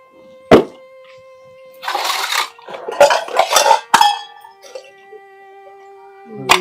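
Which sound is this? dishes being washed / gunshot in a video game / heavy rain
dishes being washed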